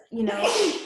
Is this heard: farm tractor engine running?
no